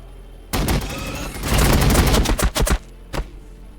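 Gunfire in the Warhammer 40,000 Battlesector video game erupts in a sharp shot, then a dense burst of rapid automatic fire with a rumbling tail, followed by a few spaced single shots.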